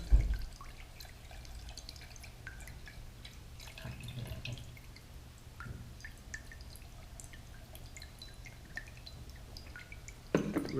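Water drips slowly through a Mr. Funnel fuel filter into a glass Pyrex dish, with faint, irregular small drops over a low steady background hum and no talking.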